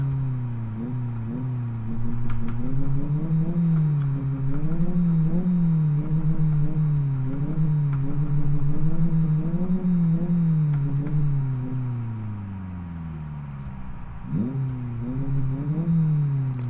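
A racing car engine with an Evo-style exhaust revs up and down in repeated surges in the video game Live for Speed, its exhaust note rising and falling steadily for most of the stretch before a brief drop and rev.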